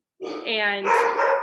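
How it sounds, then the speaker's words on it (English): Dog barking close to the microphone, a loud run of excited barks and yips that carries on after one sharp opening bark, with no speech over it. "I'm sorry about the dog."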